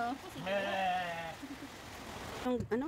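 A goat on a farm gives a clear, wavering bleat near the start. Later a second shorter bleat comes, with faint rain-like background noise between the two.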